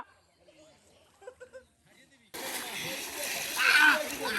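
At a village pond during a group fishing session, a few faint voices and shouts are followed by a sudden loud burst of splashing and churning water as people plunge in.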